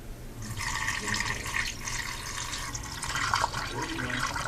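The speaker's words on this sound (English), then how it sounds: "And now I'm gonna put some distilled water in here." Distilled water pours into a car's cooling system during a coolant flush, a steady close gurgling splash that swells and dips over several seconds with no talk.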